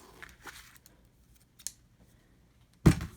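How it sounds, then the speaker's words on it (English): Scissors cut through packaging during a Macintosh PowerBook 165c unboxing, giving a few faint, sparse snips in a quiet room and then one louder, sharper cut at the end. "Probably won't need the scissors anymore."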